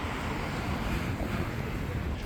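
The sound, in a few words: wind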